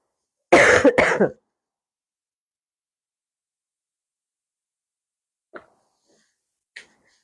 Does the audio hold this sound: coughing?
yes